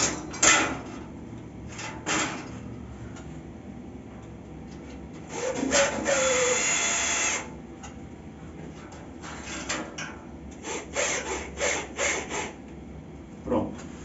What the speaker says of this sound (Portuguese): Estou aqui com a parafusadeira já na posição.